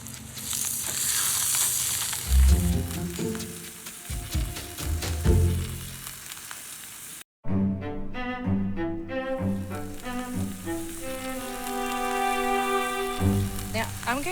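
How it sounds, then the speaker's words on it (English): Loud, steady sizzling of beef searing in a hot pan, with a brief cut partway through before the frying crackle resumes. "That's the sizzle."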